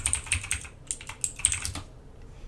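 Keys clatter on a computer keyboard in short, quick bursts of close taps with brief pauses, fading out toward the end, with no talking.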